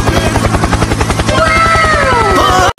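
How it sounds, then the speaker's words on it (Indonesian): A helicopter's rotor chops in loud, steady, rapid pulses, close and continuous, with a whining engine tone rising and bending over the beat before cutting off abruptly. "lihat-lihat, di sini ada helikopter."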